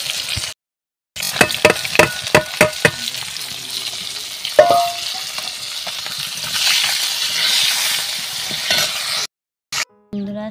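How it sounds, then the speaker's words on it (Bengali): Fish frying in oil in a pan: a few sharp utensil clinks at first, then a steady crackling sizzle that grows louder near the end, with no talking. "সব মাছ ভাজা আমার কমপ্লিট।"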